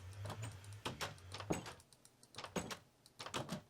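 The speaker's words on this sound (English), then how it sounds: "Oh, they changed door sounds." Wooden doors in Minecraft open and close in a quick series of sharp clacks and knocks, several in a row, loud and close with no talk.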